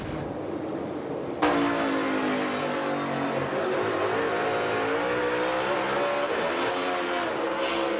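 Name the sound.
NASCAR Cup car engine during a mis-shift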